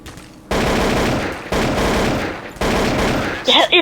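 Bursts of automatic gunfire in a first-person shooter game, loud sustained volleys in three close runs, with a brief electronic sound at the end.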